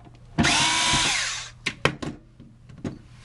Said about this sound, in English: we have to remove the screws for the doctor blade